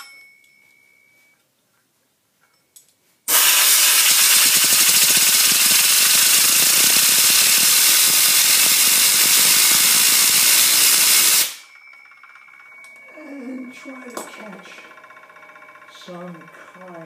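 A Faraday gyro, a homemade disc generator, spins up with a loud, steady broadband whir and hiss that starts abruptly, runs for about eight seconds and then cuts off, followed by quieter clattering and room noise.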